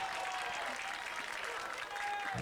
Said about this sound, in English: Josh Urbano, who came out of the game, gets a big round of applause